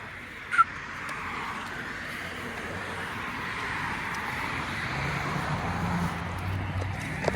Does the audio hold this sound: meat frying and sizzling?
no